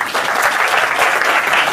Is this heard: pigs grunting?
no